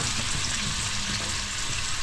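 Potatoes frying in a pan with pepper, onion and ginger, giving a steady, dense sizzle that runs throughout without breaks.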